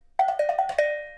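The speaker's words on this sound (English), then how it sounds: "And then he also played some cowbell sounds, also with hands, like this," A cowbell struck by hand in a folk recording: about six quick, bright metallic hits in a loose rhythm, close and clear, the last one left ringing out.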